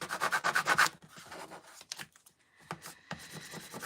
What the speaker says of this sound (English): I'm going to burnish both sides.